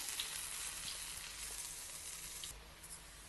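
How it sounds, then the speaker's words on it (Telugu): Garelu, ring-shaped lentil fritters, deep-fry in hot oil for a Navratri offering, producing a dense, continuous crackling sizzle that stays even and close, easing slightly near the end, with no talking. "ఇప్పుడు దీన్ని మనం వేయించుకుందాం."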